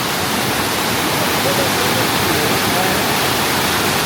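Clean mountain water flows down a stream in the Levent Valley near Kemaliye, Turkey, a loud, close and constant rushing hiss with no break.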